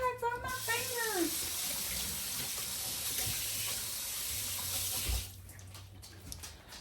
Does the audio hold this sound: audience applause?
no